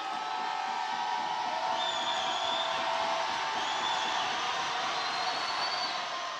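Home crowd in a Mandeville high school gym during a boys basketball playoff game, a steady loud roar of voices and whoops from the stands while an opposing player shoots free throws, constant throughout.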